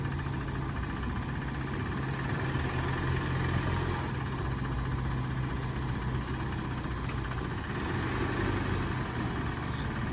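A jump-started Acura at a City of Norfolk auction idles with an even, continuous engine drone. The low rumble holds steady and close for the whole stretch, and nobody speaks.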